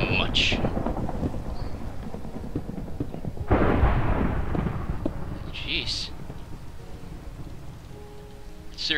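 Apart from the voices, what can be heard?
thunderstorm with thunder and rain in a video game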